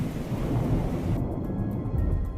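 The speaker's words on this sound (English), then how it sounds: "Thunderstorms are among the most dangerous types of weather that an aircraft can encounter while flying" A thunderstorm with steady heavy rain and a deep rolling rumble of thunder, dense and continuous throughout, the low roar dominating while the rain hiss fills the background.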